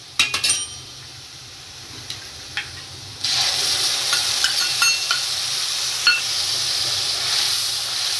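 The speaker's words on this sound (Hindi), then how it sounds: "अब इसमें मसाला मिक्स कर दी, मसाला डाल के भूनेंगे।" Onions and masala fry in a pan for mangodi sabji, with light spoon clinks at first before a steady loud sizzle takes over, punctuated by occasional stirring scrapes.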